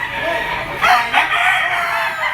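A Sweater round head gamecock, a yellow-legged bullstag, crows loudly and close, one sustained call with a couple of rising surges, alone without talk.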